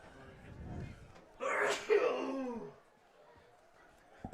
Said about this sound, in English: With the heavy sneeze